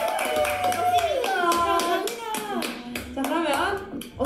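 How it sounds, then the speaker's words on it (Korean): A group of K-pop idols clapping together during a casual livestream, giving quick, bright rounds of hand claps in bursts while voices chatter and laugh over them. "박수!"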